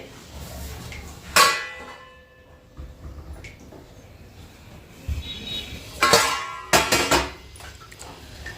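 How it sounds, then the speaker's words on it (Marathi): A metal lid set onto a pan of cooking sabudana, producing a few close metallic clangs and clatters spaced apart, with quiet kitchen sounds between them. "यावरती ना आता मी झाकण ठेवते एक पाच मिनिटाला वाफू देऊ"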